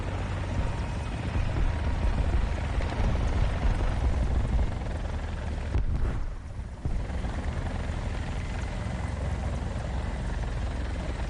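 Helicopter in War Thunder flying with a continuous loud rotor thrum and engine roar, with a brief dip in the middle before the steady drone resumes.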